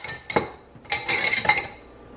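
A spoon stirs ground beef stew with soy sauce, Worcestershire and spices in a crockpot, giving several close, light clinks and scrapes against the pot. No one talks.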